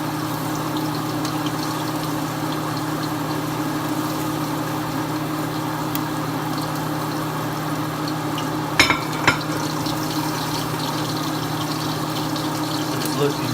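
Bacon frying in a pan gives a steady, even sizzle with a low background hum, broken by a couple of short clicks partway through.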